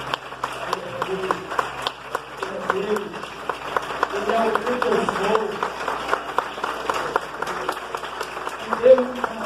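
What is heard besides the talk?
congregation applauding in church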